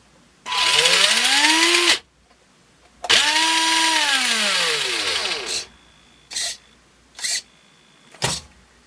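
A small electric motor in a scale RC car whines up and down in pitch through two long bursts, followed by three short revs, loud and close with no talk.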